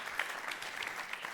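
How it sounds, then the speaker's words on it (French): A brief burst of steady audience applause at a regional sports awards ceremony, many hands clapping together in a dense, even patter. "Sous vos applaudissements"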